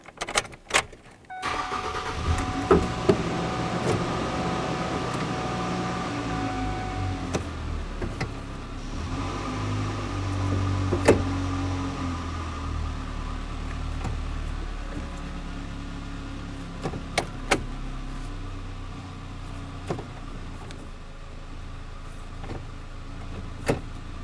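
A 1998-2011 Ford Ranger engine starts and settles into a steady idle, a low continuous rumble close by, with a few clicks and clunks from nearby work scattered over it.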